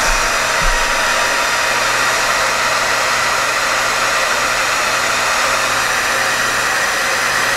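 A hair dryer blows hot air onto the finish of an Epiphone Les Paul guitar, giving a loud, steady, unbroken whooshing drone that runs alone for the whole stretch.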